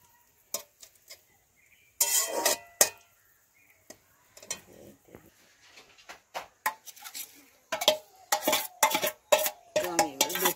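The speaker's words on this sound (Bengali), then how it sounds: "রসুন বাটা, আদা বাটা ভেজে ঘুরিয়ে ঢাকাতে হবে।" A spoon scrapes and clinks in a pan while garlic and ginger paste fry, in sharp intermittent bursts of stirring separated by quiet gaps.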